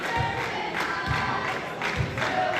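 Basketball fans cheer and shout continuously from the stands at a boys' high school regional playoff game, a dense crowd roar with swelling bursts of voices, heard close and loud throughout.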